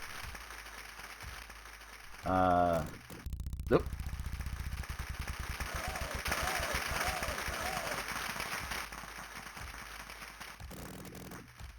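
Crowd applause from the 1989 Gametek Wheel of Fortune video game swells into a loud, sustained wash of clapping that runs for several seconds, with a brief voice speaking near the start.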